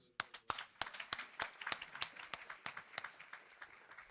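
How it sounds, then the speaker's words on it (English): A small audience at an annual community luncheon gives sparse, individually distinct claps in an uneven rhythm, fairly faint and spaced out rather than a full ovation. "give those folks a round of applause"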